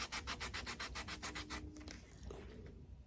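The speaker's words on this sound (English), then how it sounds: "I have a piece of 80 grit sandpaper right there on my hand sander, and I'm just carefully taking a little off at a time like this" A hand sander with 80 grit sandpaper rubs wood in about a dozen quick, even back-and-forth rasping strokes, close and fairly loud, then slows to a few softer scrapes.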